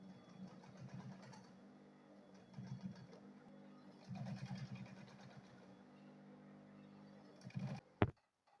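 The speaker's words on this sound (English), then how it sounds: "So now I'll go ahead and sew it round." A sewing machine stitches around a fabric bag, a steady low mechanical whir running in bursts with brief pauses, ending in a sharp click as it stops.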